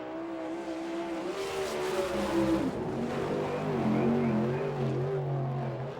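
A sprint car running a lap at Fremont Speedway in Ohio, its loud engine note rising and falling as it accelerates, backs off and drives through the corners.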